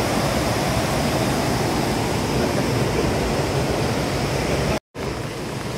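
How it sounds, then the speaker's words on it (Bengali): The Sahastradhara waterfall near Dehradun roars as a loud, continuous, close-up wash of falling water, broken once by a brief cut near the end. "এই হচ্ছে এখানকার জলপ্রপাত, এখান দিয়ে পুরো নেমে আসছে"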